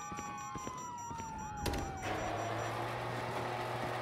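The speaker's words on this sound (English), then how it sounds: "you hear that? Sirens." Police sirens wail in Grand Theft Auto V, a steady rising and falling tone with other game sounds, then a sudden burst and a louder mechanical din continuing underneath.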